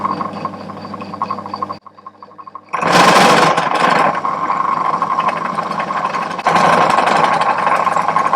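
Drill boring into an alloy part of a Shovelhead motorcycle, a loud steady grinding whine starting abruptly after a quieter motor hum, with a brief lull and then a surge in intensity toward the end.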